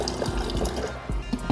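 Water pours from a container into a slow cooker of lasagna sauce, a steady close splashing and trickling that runs continuously with small gurgles and bubbling accents.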